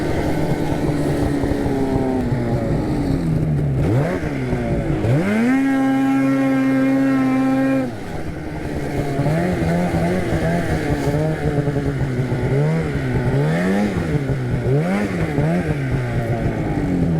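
A Polaris RMK snowmobile, ridden with a finger throttle, drones steadily up close and rises and falls in pitch through repeated revs, with one strong climbing rev early on and a brief dip midway.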